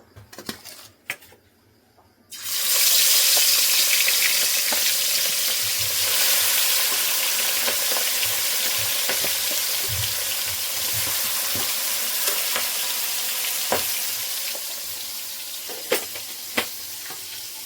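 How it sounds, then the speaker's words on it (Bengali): Prawns rubbed with salt and turmeric drop into hot mustard oil after a few light clinks, setting off a sudden loud sizzle that keeps hissing steadily with occasional pan taps. "এখানে সর্ষের তেল দিয়ে দিয়েছি, গরম হয়ে গেছে। মাছটাকে ভেজে নেব।"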